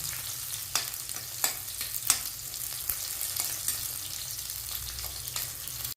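Onions sauté in a hot pan for a pumpkin tamarind curry, a steady bright sizzle broken by regular scraping stirs of a spoon, close and fairly loud, with no talking.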